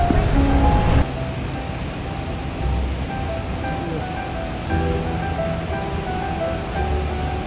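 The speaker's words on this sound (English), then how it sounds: "We have just arrived to Godafoss waterfall, and this place is really pretty because there's three waterfalls right by each other." Godafoss, a waterfall of three falls side by side in Iceland, gives a steady, unbroken broadband roar of rushing water that fills the whole clip with no voices.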